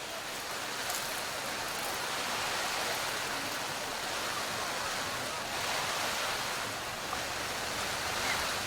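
Steady rain falls at an outdoor Australian football ground, a constant soft hiss with even loudness throughout and no clear speech.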